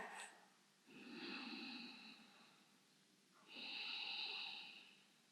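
Slow, deep breaths during a restorative yoga flow: two long, soft airy exhalations, each a few seconds long, with a quiet pause between them, close and gentle, with no talking.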